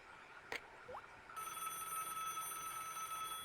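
A telephone rings in the Broken Sword point-and-click adventure game. A steady electronic trill starts partway through and holds, after a brief click and a short rising tone at the start.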